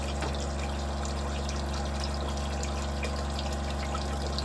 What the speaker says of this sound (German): Der Wassermacher läuft jetzt seit 1 Stunde 15